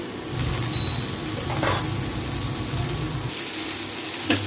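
Potato and onion sizzle gently in a pan while being stirred, a steady soft frying hiss with occasional scrapes; the sizzle thins out toward the end.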